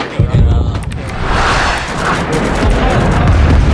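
Loud explosions in the video game Rising Storm 2: Vietnam, a heavy rolling boom with deep rumbling and crackling debris that stays dense and close throughout.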